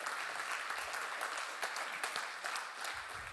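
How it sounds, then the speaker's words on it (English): Audience applause for a startup pitch team at a contestant showcase, a dense steady wash of clapping that holds for the whole stretch, then thins slightly near the end. "Big round of applause for City Legends."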